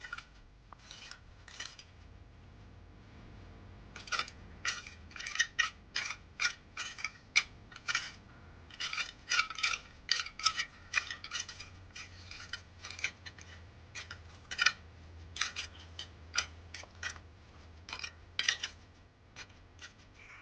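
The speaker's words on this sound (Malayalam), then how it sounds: "ഇങ്ങനെയുള്ള ഈ സ്പൈക്സുള്ള തൂമ്പ എടുത്ത് ജസ്റ്റ് ഒന്ന് ഇളക്കി കൊടുക്കുക" A spiked garden hoe lightly stirring turmeric-dusted soil after sowing amaranth seeds, making repeated short scraping, gritty strokes in quick uneven bursts with brief pauses, close and fairly quiet, with no talking.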